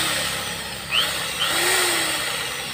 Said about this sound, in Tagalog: bubutasin natin yan gamit yung drill